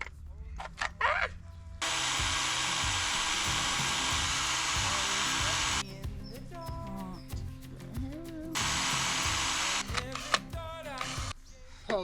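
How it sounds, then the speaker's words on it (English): A power drill with a small 3 mm bit drills into the metal of a shipping container, whining in long sustained bursts, loud and steady, with short pauses between runs and brief talk in the gaps. "I'm gonna use a small drill bit first and see if that's easy to go through the metal"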